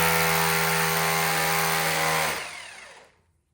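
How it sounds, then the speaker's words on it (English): A Milwaukee hammer drill fitted with a 5/16 masonry bit bores into brick for a floating mantel, a loud steady whirring roar that winds down and stops near the end. "Next step, 5/16 masonry bit through that same hole into our brick."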